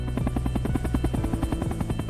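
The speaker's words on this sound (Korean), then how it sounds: "헬기는 국정원의 유럽 거점인 폴란드를 향해 날아가고 있다" A helicopter in flight gives a steady, fast thudding rotor chop over a deep engine drone, loud and close, with no voices.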